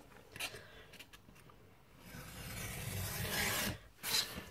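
A craft blade drags through paper for a papercraft card, giving a soft scraping rasp that builds in a longer stroke, followed by a brief sharper cut, faint and close.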